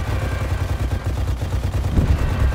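Sustained gunfire in the military shooter game Arma 3, dense rapid bursts of shots and low rumbling reports running continuously at fairly loud level with no speech.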